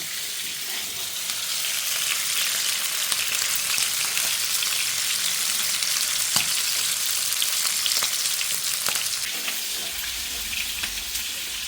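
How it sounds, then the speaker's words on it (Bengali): Beef pieces fry in a pan with a continuous, even hissing sizzle that holds steady and close for the whole stretch, with faint clicks of stirring. "মাংস ভাজা হচ্ছে"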